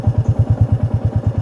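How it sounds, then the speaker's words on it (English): A Royal Enfield motorcycle engine idles with a steady, loud low thump, about eight even pulses a second, close to the microphone and with no talking. "Let me switch off my engine."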